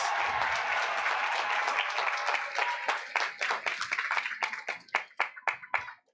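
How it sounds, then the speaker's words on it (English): Applause from the audience at a physician assistant class of 2022 graduation ceremony: dense, sustained clapping that thins out into scattered individual claps toward the end. "Give them a round of applause."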